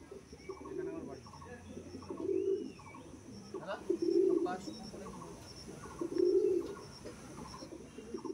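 Pigeons at a pigeon keeper's loft in a remote village in Basirhat give low, throaty coos in several separate bursts against a steady, quiet background, with faint chirps mixed in.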